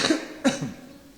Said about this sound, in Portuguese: Eu estou com essa tosse tem uns 15 dias